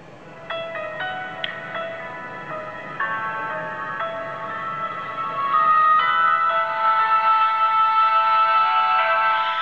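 Tinny ringtone-style melody plays from a Flying F006 cell phone's audio player, thin plucked notes that grow louder and fuller partway through, with no one talking.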